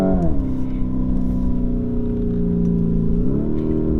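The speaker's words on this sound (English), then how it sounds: "Just downshift, do the corner, and then upshift." A Lamborghini Urus SUV engine drones loud and close on an empty road, its pitch dropping with a downshift and climbing again as it pulls through the gears.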